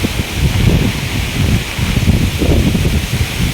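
Strong cyclone wind from Cyclone Remal roars steadily with rain, giving a dense, continuous rushing and rustling close to the microphone.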